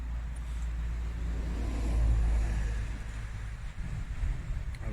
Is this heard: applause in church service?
no